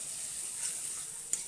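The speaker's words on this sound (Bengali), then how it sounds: "আর একটু ভেজে নেব।" Masala fries in hot oil for an egg kofta curry, giving a soft, steady, close sizzle that runs briefly and evenly with no talking.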